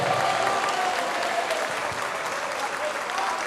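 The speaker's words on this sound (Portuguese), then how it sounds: "Vamos aplaudir mais porque está chegando mais." A church congregation applauding during a sermon, a dense, even wash of many hands clapping at once that holds steady throughout, with no pauses and no clear voices above it.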